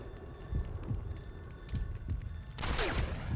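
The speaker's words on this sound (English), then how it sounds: "I heard her gunshot." Gunfire in the video game Metal Gear Solid V: The Phantom Pain, a few sharp reports scattered across the clip, with a louder, sustained burst near the end over steady game ambience.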